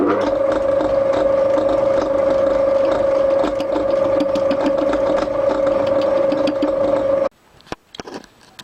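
A lathe cuts the hub off a cast sewing machine handwheel, a steady loud tonal whine with rhythmic chatter that stops abruptly near the end, followed by a few knocks and handling clatter.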